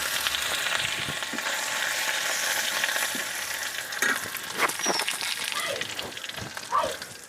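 Crushed garlic, cumin seeds and red chilli fry in hot mustard oil, giving a steady close hiss and crackle, with a few spoon scrapes near the end and no talking.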